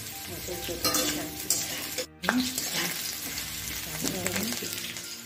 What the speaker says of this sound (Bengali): আলু ভেজে নিচ্ছি।